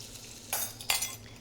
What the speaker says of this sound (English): I'm just going to saute this for about 15 minutes until the vegetables are just tender and the onions are nicely browned